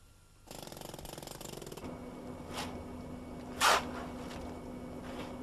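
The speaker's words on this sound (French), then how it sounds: "Le recépage est effectué avec le marteau-piqueur." A jackhammer trims excess concrete from a pile head on a building construction site, giving a rapid, steady mechanical rattle for a few seconds that then stops, leaving a low hum and a sharp impact.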